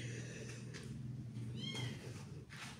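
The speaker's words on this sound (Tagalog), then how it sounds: "Meron pa tayong alagang pusa." A pet cat meows softly indoors at home, a short faint mew rising briefly over a low steady background hum.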